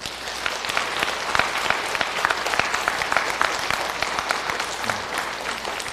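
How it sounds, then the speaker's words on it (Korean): A church congregation claps together in a steady, dense round of applause, with crisp individual hand claps standing out and a faint murmur of voices underneath. "일단 우리 주님을 위해서 박수를 한번 쳐드려봐"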